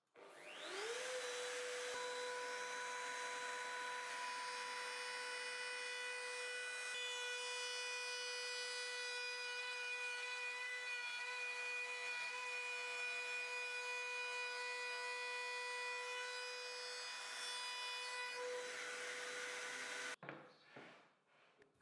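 Power tools cut wooden channels for a sliding carriage on a table saw workstation, a jigsaw and router whining with a loud, steady high-pitched drone for about eighteen seconds before stopping abruptly, with no talk.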